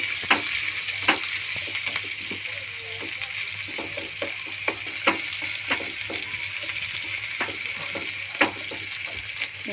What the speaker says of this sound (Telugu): అల్లం పేస్ట్ అయితే వేసుకుందాం ఫ్రెండ్స్. పచ్చివాసన పోయేంత వరకు వేగించుకుందాం